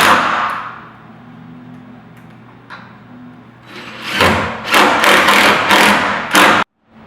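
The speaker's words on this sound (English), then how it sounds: "Now I will secure the frame through the pre-drilled attachment holes." A frame being fastened through pre-drilled attachment holes gives a run of sharp metallic clangs and knocks, several close loud bursts in quick succession after a quieter scraping start, then an abrupt stop.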